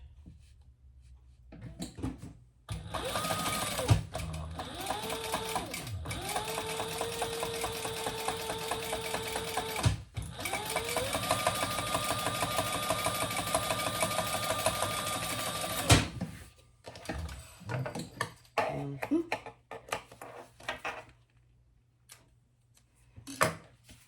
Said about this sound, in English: we're gonna top stitch here, 1/8 of an inch